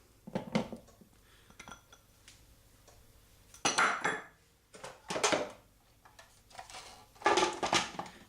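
Butter being mixed into a banoffee pie base in a bowl, heard as several separate bursts of utensil scraping and clinking against the bowl, close and moderately loud, with quiet gaps between strokes.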